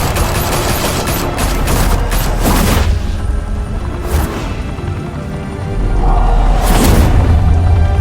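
Heavy gunfire in a Batman Telltale Series shootout: dense, loud volleys and bursts of shots with booming impacts and crashes, close and continuous across several seconds.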